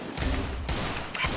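Gunfire in the battle-royale video game Free Fire comes as a short run of rapid, overlapping shots, loud and close and packed into a quick burst.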